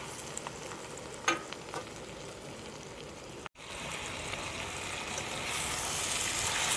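Chicken, about 1.5 kilos, goes into a frying masala with a steady close sizzle and a few scraping stirs, a brief break in the sound, then a louder, hissier fry as the pan heats up.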